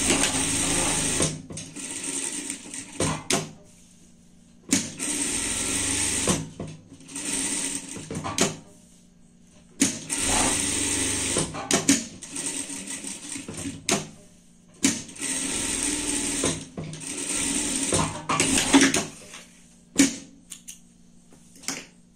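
A sewing machine runs a seam along the other side of a reversible girl's Christmas party dress, buzzing in repeated bursts of a few seconds each, separated by short pauses, close and clear with no voices.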